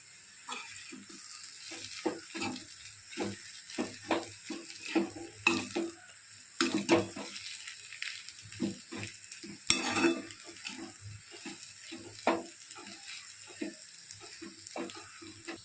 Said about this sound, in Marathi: आणि त्याचे चांगल्या प्रकारे आता आपल्याला मिश्रण करून घ्यायचे आहे